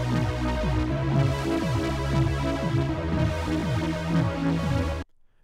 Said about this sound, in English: a synth pad, and it sounds something like this